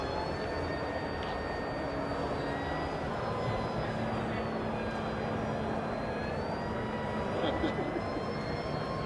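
A mothership aircraft coming in to land in front of the Stratolaunch hangar, heard as a steady engine drone and whine held at moderate loudness throughout, with a voice talking over it.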